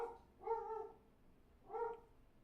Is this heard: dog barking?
yes